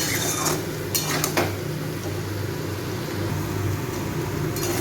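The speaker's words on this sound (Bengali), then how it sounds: "এবারে এই নুনটাও দিয়ে আলুটাকে আমি আরও একটু 2-3 মিনিট ভেজে নেব।" Salted white potatoes frying in a pan for a Bengali potato curry, giving a steady close sizzle with occasional utensil clinks against the pan and no talk.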